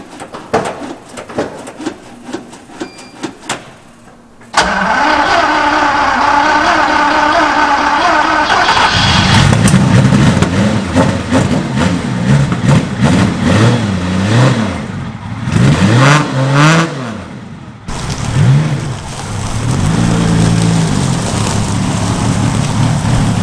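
A 1970 Lamborghini Miura fires up after a stretch of quiet, its engine catching abruptly and then revving loudly in repeated rising and falling swells over a steady idle, close by and filling the space.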